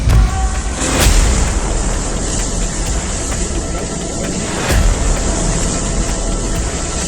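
Explosions at an oil depot in Luhansk during rocket attacks in the Russia-Ukraine war, two loud booms a few seconds apart over a continuous roaring rumble.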